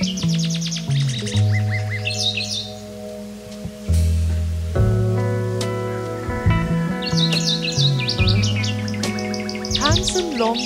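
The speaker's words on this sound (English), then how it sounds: "Wagtail." Wagtails, gray or white-browed, call in Nagzira forest with repeated sharp chirps and tweets over a layered background of tonal song. The calls are fairly close and loud, arriving in bursts.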